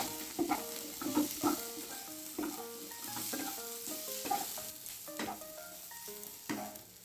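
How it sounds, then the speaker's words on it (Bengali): Sliced onion, ginger, green chilli and garlic fry together in oil in a kadai, with a soft, steady sizzle and scattered stirring clacks, fairly quiet, while tonal background music plays underneath. "এখানে পেঁয়াজের সঙ্গে আদা, কাঁচা লঙ্কা, রসুন দিয়েছি, সব ভেজে নেবো একসাথে।"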